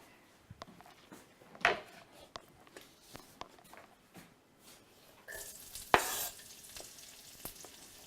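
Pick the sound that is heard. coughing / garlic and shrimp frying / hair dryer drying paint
garlic and shrimp frying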